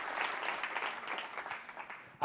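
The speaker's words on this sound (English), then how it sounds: "you can applaud for that" A summit audience gives soft, diffuse applause during a talk on the DonorsChoose teacher-funding nonprofit, a faint, steady patter at a distance with a speaker's voice mixed in.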